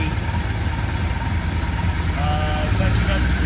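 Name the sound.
1981 Suzuki GS850 motorcycle engine idling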